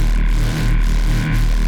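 A synth patch with heavy detuning, chorus switched off, plays a sustained, dense tone with a thick low end and a pulsing rhythm repeating roughly every half second, loud and alone.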